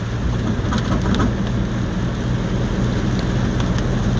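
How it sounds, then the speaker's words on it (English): Heavy rain pours down during February flooding in southwest Virginia, a dense, steady roar of water with a low rumble underneath, unbroken and fairly loud throughout. "We don't get rains like this around here very often."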